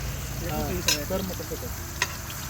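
Oil frying in a large pot for biryani sizzles steadily underneath a short stretch of talk, with a couple of sharp clinks of the utensil.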